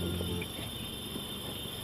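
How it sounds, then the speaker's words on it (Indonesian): Crickets chirp steadily in a village setting at night, a constant high shrill trill that holds throughout, fairly faint with some low rumble underneath and no talk. "Dengarkan suara jangkrik"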